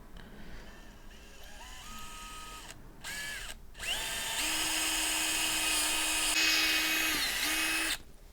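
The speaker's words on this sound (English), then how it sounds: "let's get that drilled" A power drill bores holes through a number plate into wood beneath, several whining bursts that rise in pitch as the bit spins up, stopping briefly between holes, then a longer steady run, close and fairly loud, with no talking.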